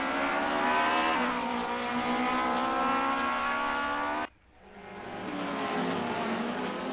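A massive pack of BMW race cars at a club championship round roars steadily, engines droning loud and close. The noise cuts out abruptly for a moment, then swells back.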